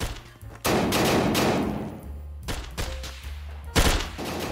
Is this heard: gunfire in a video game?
yes